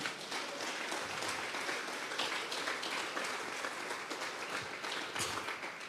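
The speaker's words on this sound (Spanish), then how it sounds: "Dele fuerte pues esas palmas." Worshippers at a Tuesday Bible study service clap their hands. The clapping is dense and continuous for about six seconds, a steady crowd texture with occasional louder bursts.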